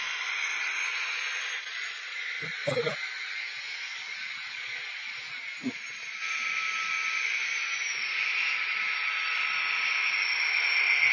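A model diesel locomotive's simulated engine sound runs as a continuous hissing drone, close and fairly even, with a couple of short clicks or knocks early on and a slight rise in intensity toward the end.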